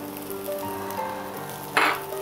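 Mint and coriander leaves stirred into biryani masala frying in a pan give a steady close sizzle, with a brief louder hiss and scrape of stirring near the end.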